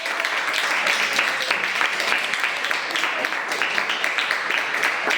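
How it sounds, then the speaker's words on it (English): A classroom of students bursts into a round of applause, dense, lively clapping close by that holds steady throughout. "Give them a big round of applause."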